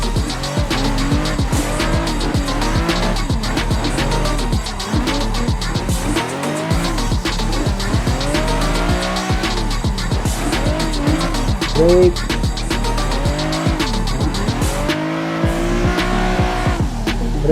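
Race car drifting through brake and clutch kicks, loud revving engine with repeated long tire squeals and skids, sustained and close throughout, with an excited voice calling out over it.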